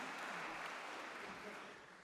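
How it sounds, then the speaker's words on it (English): Broad, steady clapping from a theatre audience after a Guys and Dolls medley performance, fairly loud and continuous, tapering off slightly toward the end. "Round of applause for Valerie."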